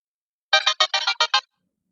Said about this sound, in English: as my phone goes off in the background